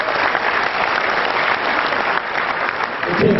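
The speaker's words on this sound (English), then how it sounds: "give yourself a round of applause," An audience at a renewable energy event gives itself a round of applause, a full, even burst of clapping heard close and unbroken for about three seconds.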